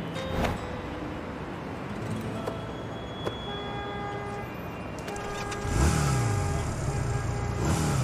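A motorcycle engine revs up nearby, rising loudly after a stretch of traffic noise with a brief horn toot, no talking.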